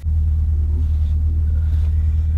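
A race car engine during a hot lap gives a heavy, steady low rumble heard from inside the cabin, loud and continuous throughout the short stretch.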